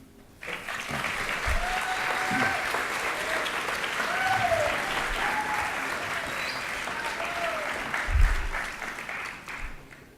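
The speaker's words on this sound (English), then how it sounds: "So let's take a second just to clap your hands for a minute" Audience at a culinary institute keynote clapping hands in a large hall, a sustained, even roar of applause after a quiet start, with a few cheering voices rising above it before fading at the end.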